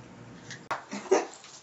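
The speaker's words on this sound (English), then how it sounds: "A dog." A dog gives soft whimpers followed by a couple of short, close barks or yips, with a sharp click partway through; the sounds come alone against a quiet room.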